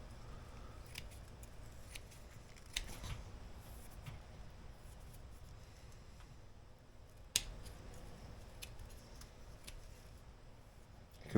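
Small scissors trim back grass-like growth in a ficus bonsai forest, giving a few faint, sparse snips over a quiet background hiss.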